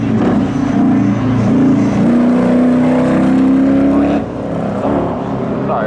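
A Dodge Dart drag racing against another car at a spectator drags event, a loud sustained engine roar holding a steady droning pitch before easing off near the end.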